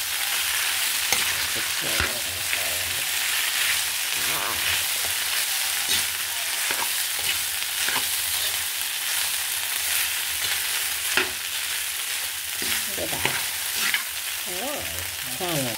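Rice for garlic fried rice fries in a pan with a loud continuous sizzle, punctuated by scraping strokes and clatter as it is stirred.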